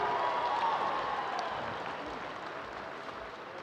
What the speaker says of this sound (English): Fans, a nice round of applause for your top performers on beam today